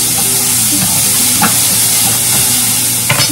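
Potatoes frying in a pan, seasoned with salt and turmeric, give off a steady, close sizzle with light scraping and stirring throughout.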